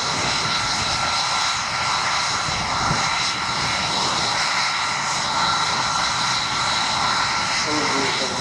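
A Belgian F-16 jet fighter flies at the RIAT air show, producing a continuous, heavy engine roar that fills the whole stretch while a commentator talks over the public address.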